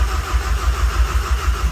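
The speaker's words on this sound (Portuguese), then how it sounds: "Primeira tentativa, o motor tosse mas morre" A turbocharged VW Jetta engine cranks with a rapid rhythmic chugging from the starter, coughing unevenly as it tries to catch before dying, loud and close throughout.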